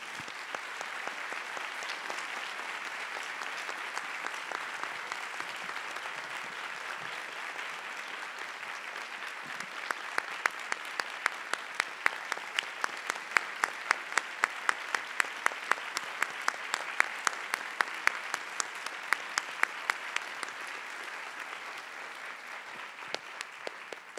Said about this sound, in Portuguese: As palmas já dizem muito.